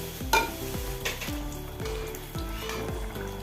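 Pazham pori, batter-dipped banana fritters, fry in hot oil with a close, continuous sizzle and bubbling, broken by repeated soft gurgling pulses.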